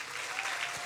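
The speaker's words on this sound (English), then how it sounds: "So what would a stage 4 applause sound like?" Science slam audience applauding, a dense, steady wash of many hands clapping heard close and fairly loud throughout the brief moment.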